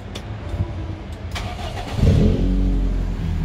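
A 1995 Toyota Corolla SEG with a header exhaust catches and starts, then settles into a loud, steady, throaty idle close by after a short quieter stretch.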